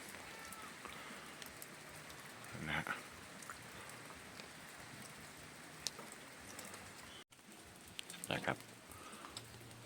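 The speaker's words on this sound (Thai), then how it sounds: "ถึงบ้านตรงเสียงนี่ฝนตกพอดีครับ" Light rain patters steadily at a house in the forest of southern Laos, a soft continuous hiss with a few faint knocks and brief noises, heard close but quiet.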